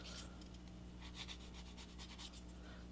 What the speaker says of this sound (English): I'm going to do a little bit of filing just like we did with the other one.